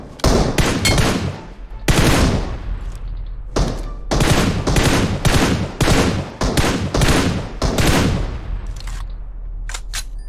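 Rapid bursts of gunfire from the mobile battle royale game PUBG Mobile, loud and close, with repeated volleys and single shots running nearly continuously, no talking over it.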